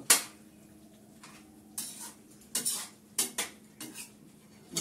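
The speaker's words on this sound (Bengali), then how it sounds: "শাক। নাড়াচাড়া করে দিই, গরম মশলাটা দিয়েছি তো" A spoon clatters and scrapes against a very heavy pan while greens are stirred with garam masala, making several sharp metallic knocks spread unevenly over quiet gaps.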